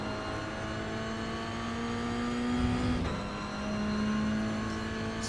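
Toyota GR86 engine at Zandvoort in iRacing, a steady close in-car drone that holds a pitch, drops sharply at a gear change, then climbs again as the throttle comes back on, with no talk over it.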